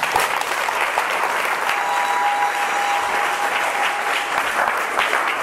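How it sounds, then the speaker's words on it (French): Conference audience in Paris applauding participants, a steady dense wash of clapping that holds evenly for several seconds, with no voices over it. "est-ce qu'on pourrait applaudir nos chers participants?"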